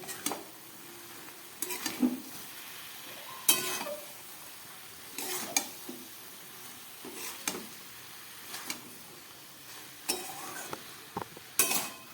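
A pan lid comes off over spinach and winter vegetables cooking, followed by a soft sizzle. A series of separate metallic clanks and scrapes of lid and utensil against the pan come at irregular intervals.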